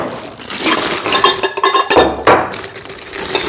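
Stainless steel oil dispenser, a one-litre container, handled up close with repeated light metallic clinks and clanks in an irregular rhythm, without speech.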